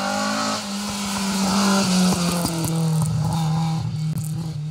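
A rally car races up a hill on an asphalt stage, its engine loud and close, revving through gear changes as it passes at speed.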